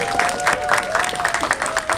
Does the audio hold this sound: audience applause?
yes